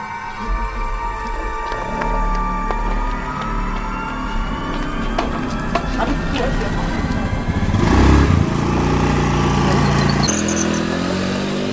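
A motorcycle engine runs steadily throughout, droning and revving slightly, with a louder surge near the end.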